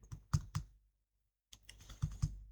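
Keystrokes on a computer keyboard while entering data into an Excel spreadsheet, a few quick clustered clicks, a pause of about a second, then another burst of taps, close and clear with no talking.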